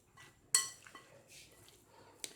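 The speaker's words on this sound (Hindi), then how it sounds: "छोटे स्पून का इस्तेमाल कर रही हूँ ताकि हल्के हाथों से मिक्स हो।" Light clinks and scrapes of a small spoon against a bowl, gently mixing boiled macaroni with a little mayonnaise for macaroni salad, a sharp tap near the start and another at the end, fairly quiet and close.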